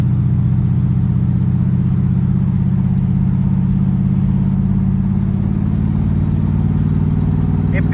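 A Chevrolet Vortec engine with new cylinder heads idling, a steady low rumble with an even pulsing rhythm, close and loud throughout with no talk.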